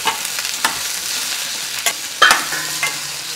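Rose apple pieces for pickle are sautéed in a pan with a continuous sizzle, broken by several sharp scrapes and knocks of a spoon stirring, close and fairly loud, no talking.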